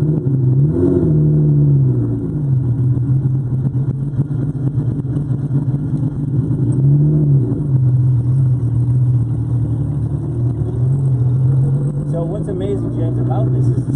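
A vintage Jaguar racing car built for street use, one of only 16 made, revs and accelerates loudly and steadily up close, its engine note rising and falling in long surges from start to finish.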